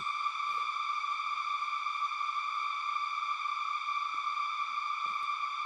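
A synthesized riser effect rings out as a sustained stack of bright, steady harmonic tones, holding evenly at moderate loudness for several seconds without fading, alone with no voices.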